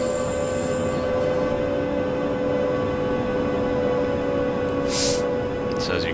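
Train pulling into a station in a Train Simulator Munich-to-Garmisch rush-hour run, a steady loud rolling rumble with a sustained tonal hum and a brief high squeal of wheels late on, speech faintly present under it.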